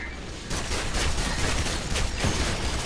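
Electric gun fired in the game Gotham City Impostors: a continuous crackling, buzzing burst of rapid shots kicks in after a brief lull and keeps going loud and close until the end.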